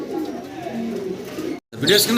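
Pigeons coo low and throaty at a bustling pigeon market as people talk nearby, with the cooing close and continuous apart from a brief break.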